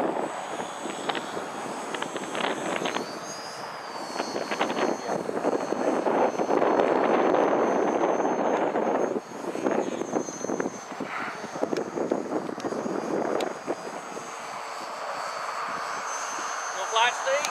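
A radio-controlled Sbach foam model airplane flies overhead in the wind, its small electric motor buzzing steadily with shifting pitch as it passes, while people talk in the background.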